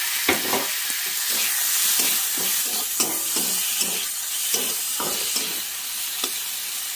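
Tomatoes fry in a hot pan with a steady bright sizzle while a spoon scrapes and stirs, giving repeated short knocks and scuffs through the sizzling.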